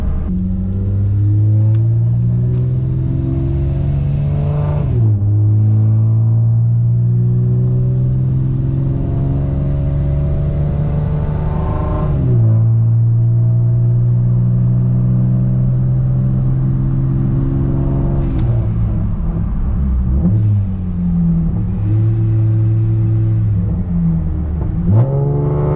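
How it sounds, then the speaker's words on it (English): A car engine revs hard through a third gear pull, its tone climbing steadily with a sharp shift into a harsher, louder VTEC wail, then dropping and rising again in loud, close sweeps. "Sounds nuts when VTEC comes in."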